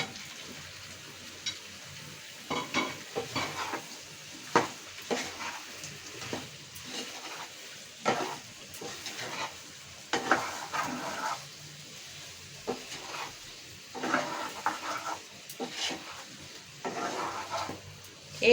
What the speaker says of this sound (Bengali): দিয়ে দিচ্ছি আমি শসাগুলো।